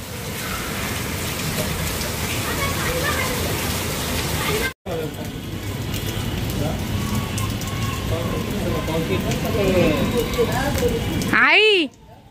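Rain pattering steadily on a surface during sunshine, a continuous close hiss of drops that breaks off briefly near the middle, with faint voices in the background.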